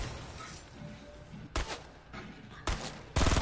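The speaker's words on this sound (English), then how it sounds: "Was that you shooting?" Gunfire in the Fortnite video game, several loud sharp bursts of shots separated by quieter pauses, the last burst the heaviest.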